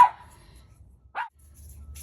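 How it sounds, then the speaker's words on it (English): Two short, sharp dog barks ring out, one at the start and another a second later, slightly distant against a quiet background. "sorry about my dogs barking"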